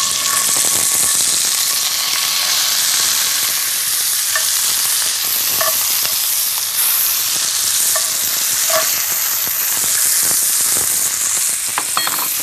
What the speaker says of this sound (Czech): Do pánvičky dám olej. A kuřecí prsa se slaninou opeču.